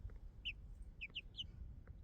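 Chickens at a brooding coop give a few soft, high, short calls in two small bursts, faint against a low rumbling background.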